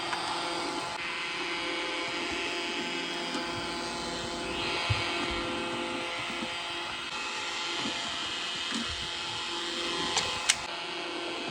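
Roomba robot vacuum cleaner running indoors, a steady whirring motor and brush drone that holds evenly throughout, close by, with a couple of faint bumps or clicks near the end.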